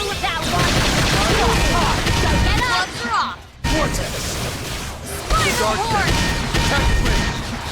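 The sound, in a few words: gunfire in the video game Xenoblade Chronicles X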